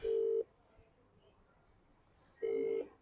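A phone call being placed: two long, steady electronic tones about two seconds apart, with a quiet line between them.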